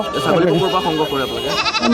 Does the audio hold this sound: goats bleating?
yes